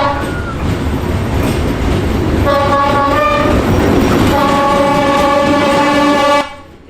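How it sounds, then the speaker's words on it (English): A train approaching through a street in Hanoi, Vietnam, sounding loud and close, with a rumbling rail roar under a sustained multi-tone horn that sounds in long blasts, before an abrupt cutoff near the end. "Here comes the train, you can hear it."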